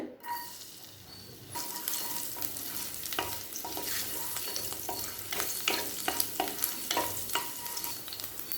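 Finely chopped garlic sizzles steadily in hot oil in a kadai, with a spatula scraping and stirring the pan in irregular knocks.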